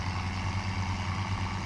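A tractor engine idles in the Farming Simulator 2017 game, a steady low rumble with a rhythmic throb that keeps pulsing evenly and fairly loud, with no talking over it.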